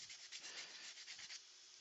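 Sanding sticks rubbed against a small hand-made model figure, a quiet, steady back-and-forth scraping with a few rhythmic strokes, close and alone.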